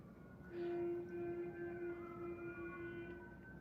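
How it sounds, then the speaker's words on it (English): A faint, distant siren wails with a steady held tone and sliding pitch, drifting under low background rumble. "You hear those sirens? That's because it's an emergency."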